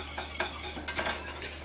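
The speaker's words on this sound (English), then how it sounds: "So our sauce is boiling. I'm going to stir it one last time" Sauce for chicken boiling in a pot, stirred with a metal utensil: a few scraping clinks against the pot over a steady low bubbling hum, close by.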